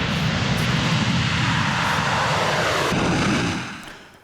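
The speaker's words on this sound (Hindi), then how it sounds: "उसके एयरक्राफ्ट देखिए ताइवान के आसमान में कैसे मंडराते हुए नजर आ रहे हैं" Chinese military aircraft pass over Taiwan with a loud, steady engine roar that fills the sky and then fades out near the end, with no talk.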